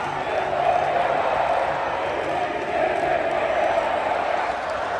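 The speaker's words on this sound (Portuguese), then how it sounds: "Protesto da torcida do Botafogo aqui agora" Botafogo supporters in a football stadium protest during stoppage time, a loud, steady roar of crowd chanting and shouting that fills the space without a break.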